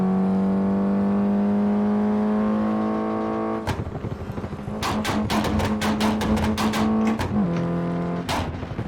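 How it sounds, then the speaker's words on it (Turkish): Car engine in the Assetto Corsa racing game holds a steady drone, then revs hard with a rapid burst of loud, sharp exhaust pops and crackles, alone with no talk. "Ne güzel patlatırsın öyle egzoz."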